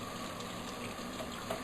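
Water running steadily through an opening in a kitchen setting, a continuous soft wash of flow like a tap or sink, fairly quiet and unbroken with no talking.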